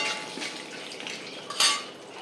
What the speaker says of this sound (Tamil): அடுப்பை மீடியம் ஃப்ளேமில் வச்சு வறுக்கிறேன்.